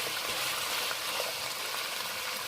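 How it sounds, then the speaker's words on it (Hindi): Boiled meat fries in a wok over low heat while cooking Kabuli pulao, giving a constant, dense sizzle that fills the whole stretch close up, with no voices. "गोश्त को फ्राई करेंगे हल्की आंच पे बिल्कुल।"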